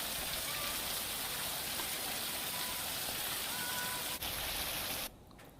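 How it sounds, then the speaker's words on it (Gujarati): Heavy monsoon rain falling in Amreli, Gujarat, a dense, steady hiss of drops on surfaces throughout, close and even, cutting off near the end. "અમરેલીમાં સારો વરસાદ"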